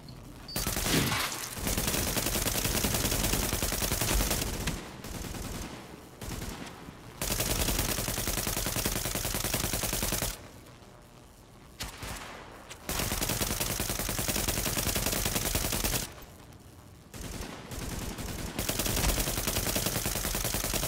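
Gunfire in the video game The Division: loud, dense bursts of rapid fire in long volleys, broken by a few short pauses, with no talking.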